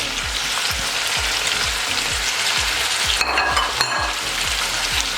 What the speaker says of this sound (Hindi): अब इसमें टमाटर डाल देंगे। तमाम पाउडर मसाले डाल देंगे।